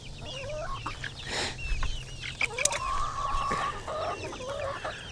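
Whiting True Blue and Buff Orpington chickens cluck and call in a lively, close flock, with overlapping squawks and a few rising cries over steady outdoor background noise, and no talking.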